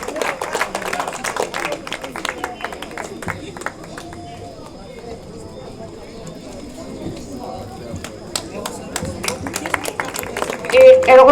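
A crowd applauds at an outdoor honours ceremony in a town square in Abyss. The clapping is scattered and uneven, then swells louder toward the end, with voices mixed in.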